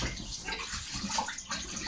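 Something is washed under running tap water in a home kitchen while cooking vegan lasagna, giving a close, steady splashing and sloshing that continues briefly without talk.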